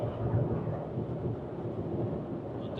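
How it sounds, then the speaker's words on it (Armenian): Steady rain near Madrid with a low, continuous rumble of thunder beneath it, an even and moderately loud wash of sound that holds throughout without any voices. "անձրև է։"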